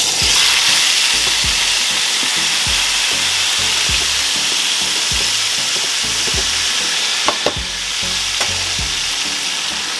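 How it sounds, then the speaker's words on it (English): Aromatic vegetables sauté in a hot pan for Caribbean oxtail, the oxtail already seared, giving a loud, continuous hiss with repeated scraping strokes of stirring throughout. "we're going to just saute our vegetables just a little bit"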